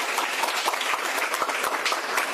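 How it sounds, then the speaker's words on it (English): Audience at a community breakfast meeting in DeKalb County applauding a county official, dense steady clapping from many hands in a room, heard alone. "let's give him a round of applause"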